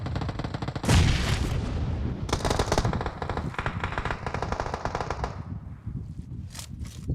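Gunfire in PUBG Mobile: a loud burst of rapid automatic shots, then sustained firing with further volleys, close and dense, fading toward the end.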